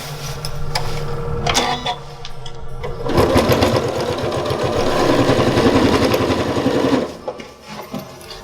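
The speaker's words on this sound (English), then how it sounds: "we always want to do our best job when we're sewing" A sewing machine stitches a quilted fabric cover for a composition notebook, starting with a few short bursts, then running steadily and loudly for about four seconds before stopping.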